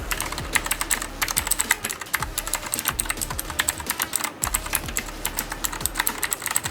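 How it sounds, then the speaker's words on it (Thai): Rapid, steady clicking of mechanical keyboard switches on a Fantech Maxfit61 keyboard, typed close up in continuous bursts with no talking. "แล้วก็นี่นะครับเป็นเสียงของสวิตนะครับ"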